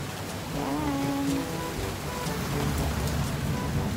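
Steady rain falling outdoors in the UAE, a dense even hiss of drops on surfaces throughout, with faint tonal sounds briefly audible underneath.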